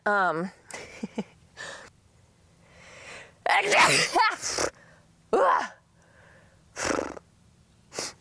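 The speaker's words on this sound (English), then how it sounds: "I'm sneezing right into you guys too." Several sneezes go off at intervals, loud and close, with a person talking in between and a soft hum underneath.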